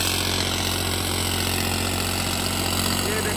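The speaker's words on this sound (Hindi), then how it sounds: "ये देखो भाई ट्रैक्टर" A John Deere tractor engine idles steadily at close range, a constant low drone with a droning hum throughout, during work on its back tyres.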